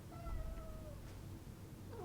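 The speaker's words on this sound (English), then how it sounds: "if you hear a cat meowing" A house cat meows indoors, a drawn-out wavering cry followed by a shorter call near the end, fairly faint over a quiet room with no speech.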